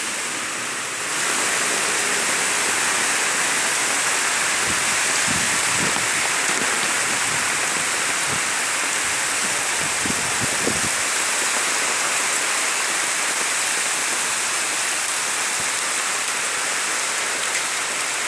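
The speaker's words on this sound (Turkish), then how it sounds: "Bu yağmur bereket, bereket getirir inşallah" Heavy July rain in Adana, Turkey, pours down in a dense, constant hiss, close and loud, with a few faint knocks early on and no voices.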